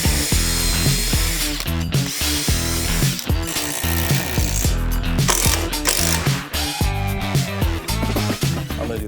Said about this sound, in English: So I'm gonna pre-drill and we're gonna install our first one here.